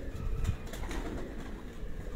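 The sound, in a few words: pigeons cooing, shy breed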